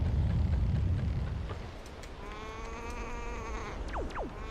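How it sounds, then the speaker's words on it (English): Sheep in a Wii U game bleat several times, rising and falling cries that are moderately loud and mostly alone, following a stretch of low rumbling background noise. "All I can hear is the sheep."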